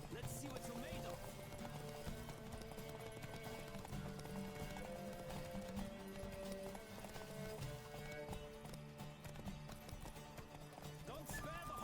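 A horse gallops at speed in The Witcher 3, its steady rhythmic hoofbeats running close and continuous, with a brief whinny near the start and the end.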